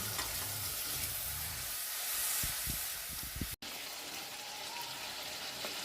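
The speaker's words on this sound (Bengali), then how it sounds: "এর মধ্যে পরিমাণ মতো লবণ দিয়ে দেব দিয়ে সামান্য একটু জল দেব দিয়ে মশলাকে ভালো করে কষিয়ে নিতে হবে" A spice paste with salt and a splash of water sautés in a pan for a prawn masala curry, a constant hissing sizzle broken by a few soft stirring knocks and a brief dropout.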